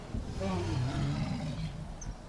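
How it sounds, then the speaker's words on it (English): A large dinosaur in the Prehistoric Kingdom park-building game lets out a loud, sustained low roar lasting about two seconds, with a voice talking faintly over it. "Give us a good roar."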